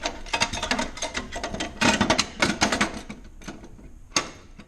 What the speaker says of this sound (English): you just slide it into the machine